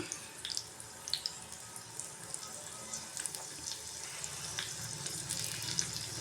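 Garlic and mustard seeds fry in hot oil in a pan for a mango gojju, giving a soft, steady sizzle with scattered faint crackles and pops, close but fairly quiet and with no talk.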